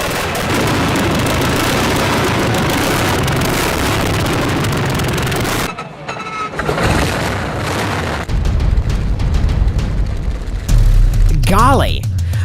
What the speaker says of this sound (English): A BMW with a 46-liter engine!